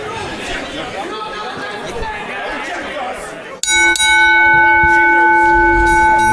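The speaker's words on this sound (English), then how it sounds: "we got the bell ringing" Wrestling ring bell in WWE 2K17 for a tag team match in Amsterdam, New York, struck sharply and ringing out loud over crowd chatter and commentary voices.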